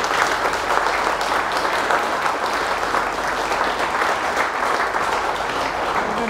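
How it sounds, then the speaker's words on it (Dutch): Sustained applause from an audience honouring Mr. Dijkstra, dense overlapping claps forming a loud, steady roar that continues unbroken for several seconds. "Een applaus voor de heer Dijkstra."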